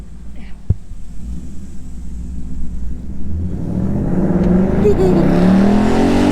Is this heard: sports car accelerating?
yes